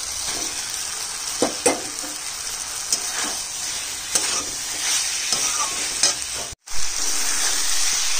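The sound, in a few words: fried paneer stirred into a sizzling vegetable curry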